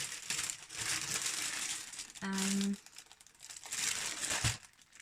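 Green leaf-pattern Lemon Craft craft paper crinkles and rustles as it is handled during an unpacking, close and uneven, with a brief hum from a person's voice in the middle.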